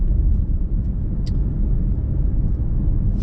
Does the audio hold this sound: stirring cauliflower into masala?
no